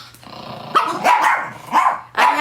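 Several dogs bark and growl at a dog retirement home during morning play, a string of loud close barks and yips in uneven bursts with low growling beneath.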